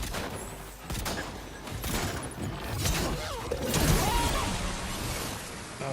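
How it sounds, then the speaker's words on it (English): Gunfire in Death Stranding 2 arrives as dense, fairly distant volleys mixed with mechanical clatter and whooshes, continuous and moderately loud throughout. "Stop shooting me."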